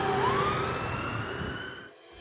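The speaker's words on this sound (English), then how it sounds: "with a police siren in the background" A police siren wails in a rising and falling tone, fairly loud but a little distant, then fades out near the end.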